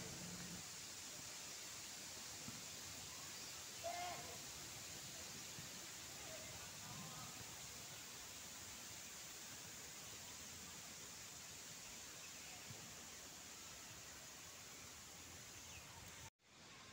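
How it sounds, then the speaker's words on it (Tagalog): Steady broadband rush of flowing water in Shing Mun Valley, Hong Kong, constant and moderately close throughout, with a few faint bird calls barely showing through. "Tanging naririnig ko yung agos ng tubig,"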